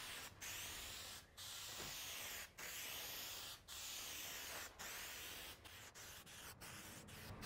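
Plasti Dip coating hisses from a spray can in a wide spread pattern during auto detailing, sounding as close, steady bursts with several short gaps where the nozzle is released and pressed again.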